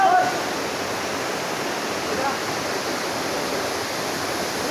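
Dhokaney Waterfall near Nainital roars in a steady, loud wash of rushing water that fills the whole stretch without a break.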